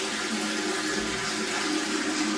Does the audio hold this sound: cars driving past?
no